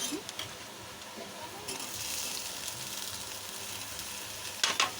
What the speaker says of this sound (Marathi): टमाटरला पण चांगलं परतून देऊया।